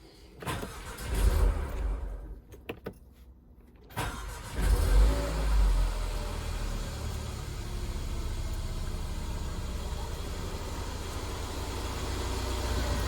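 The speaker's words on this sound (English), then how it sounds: "Now I'm gonna start the car and" A 2016 Mercedes GLA200 petrol engine cranks and catches after a brief quiet pause, then settles into a steady, close idle that runs on without a break.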